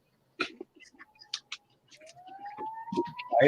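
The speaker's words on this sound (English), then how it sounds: "I hear sirens." A distant siren wails, its tone rising and sweeping, under intermittent soft clicks and small noises nearby.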